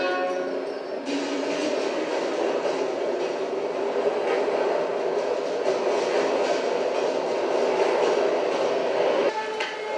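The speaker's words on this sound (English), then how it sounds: "And just like that, the subway keeps moving." A subway train rumbles along steadily with a loud, continuous roar and faint rattling, filling the whole stretch without pause, from a television drama scene.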